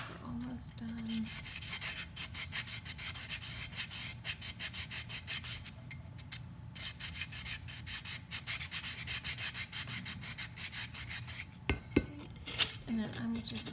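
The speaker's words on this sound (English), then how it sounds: "And then I'm just going to sand up top here." Sanding the top lip of a glitter epoxy cup, a steady close scratchy rubbing that runs in short strokes throughout, with a few light clinks near the end.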